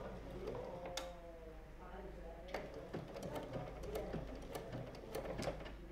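A Bernina sewing machine stitches fabric with a low steady hum and small mechanical ticks, heard under someone speaking French throughout.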